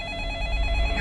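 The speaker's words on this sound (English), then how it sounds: "phone ring." A telephone rings steadily and fairly loudly for about a second, a clean electronic tone over a low hum, with no talking.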